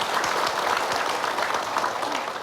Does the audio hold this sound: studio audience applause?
yes